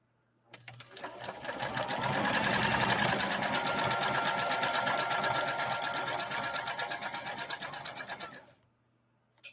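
Sewing machine stitching denim at a New Home machine, a steady fast mechanical whir running for about eight seconds after a quick start, loud and close, with the stitching fabric pulled under the presser foot.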